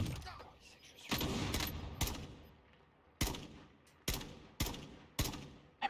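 Gunfire in the Warzone video game: several sharp, loud shots and short bursts ring out at irregular intervals, each with a brief decaying tail, under a faint background hum.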